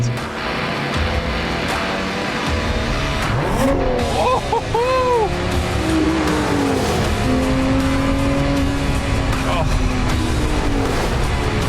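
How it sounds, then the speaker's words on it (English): A Lotus Emira sports car driven on a test track, its engine revving and climbing through gears with sharp tire squeal mid-clip, loud and close, with someone talking over it. "This engine just roars."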